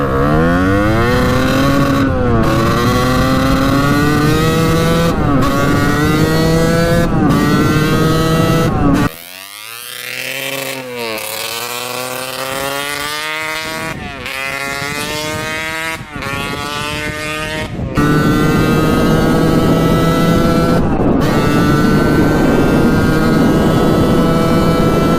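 A 1989 Kawasaki KX125 two-stroke dirt bike engine running hard, its pitch rising and falling as it revs up through gears, briefly dropping and easing before climbing again, loud and close with no talk.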